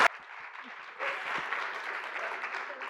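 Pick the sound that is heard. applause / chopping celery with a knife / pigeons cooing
applause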